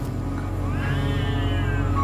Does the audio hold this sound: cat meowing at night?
yes